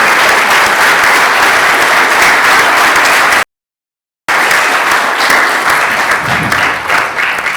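Loud, dense applause from a keynote conference audience for the event crew, sustained clapping broken by a sudden brief dropout of total silence before resuming and gradually thinning.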